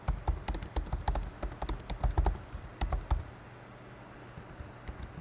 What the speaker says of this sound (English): Type in the website.